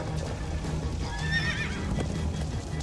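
A horse in the Minecraft Story Mode video game gives a short, high whinny over a steady droning background, fairly faint and with no talk.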